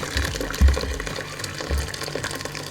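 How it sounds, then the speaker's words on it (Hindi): Jaggery water being poured through a sieve to strain out impurities for sweet jaggery rice, with a wet splashing gush that swells twice, then a steady trickling flow underneath. "इस तरह की छालनी की मदद से ये सारे का सारा पानी जो है ना, इसको आपने साफ़ कर लेना है।"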